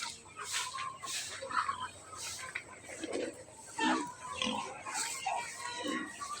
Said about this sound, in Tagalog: Oh, may native na baboy,